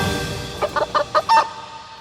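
Hens give a run of short, close clucks in quick succession, about five bursts in the middle of the stretch, with quiet farmyard background before and after.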